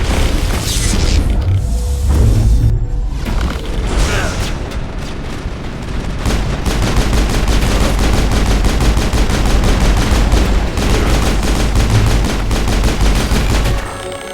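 Gunfire in a Mass Effect firefight, dense rapid shots, booms and mechanical clatter that stay loud throughout, with voices talking over the battle.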